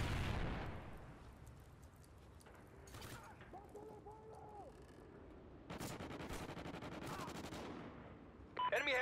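Gunfire and explosions in the online shooter Old Ghosts during a team objective match, with bursts of shots, a sustained stretch of firing in the second half and a loud blast at the start and end, under a busy game mix.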